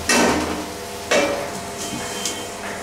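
A metal pan lid clanks down onto a cooking pot with a sharp knock, followed by a second clatter and a lighter tap, in a kitchen where bottle gourd is being fried for a Hindu wedding feast.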